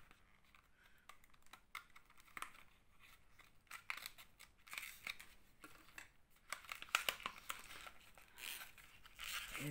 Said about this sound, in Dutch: ik heb een schaar nodig, denk ik.